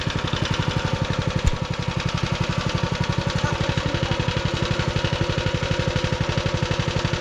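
A Massimo MB200 minibike engine fires up and settles into a steady, fast idle, with a rapid, even putter that stays loud and close. There is one brief sharp click early on, and no one speaks.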